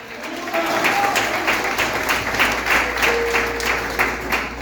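A large church congregation claps continuously during a service, a dense, steady wave of applause filling the room without pause.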